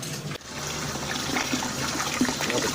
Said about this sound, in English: Clean up the straw. All nice and washed out.